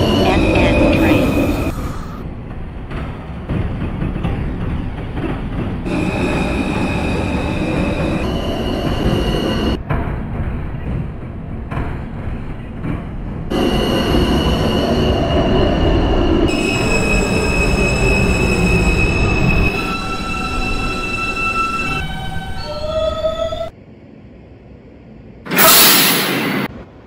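A simulated New York City Transit R160A Alstom subway train on the Q line at Coney Island–Stillwell Avenue, heard through rumbling wheels, high wheel squeal and motor whine, and a closing door chime, with announcements playing over it.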